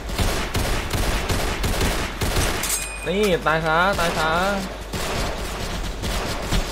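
Machine gun fire in Roblox War Simulator, a World War II battle game, rattling in rapid bursts alongside explosions and other game sounds while someone talks excitedly over it.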